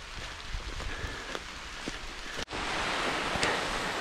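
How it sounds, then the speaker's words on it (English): Hard rain falling on a Taconic Mountains trail, a steady broadband hiss that briefly drops out and returns louder, with occasional sharper drops and thuds close by. "It's officially raining hard."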